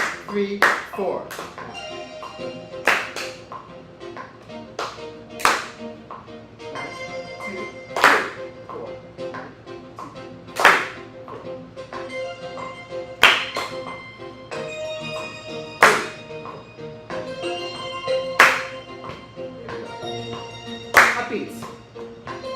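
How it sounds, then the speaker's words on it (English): Sharp hand claps in a drummer-led rhythm class land at a steady, evenly spaced pace, one on beat three of each bar, standing out clearly over a low sustained background hum. "Now we're going to clap on beat 3."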